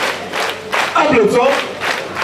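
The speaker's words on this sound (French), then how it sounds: "Applaudissons." Audience applause and crowd noise at a church youth preachers' celebration, a dense burst of clapping with cheering voices rising in the middle, fairly loud and close throughout.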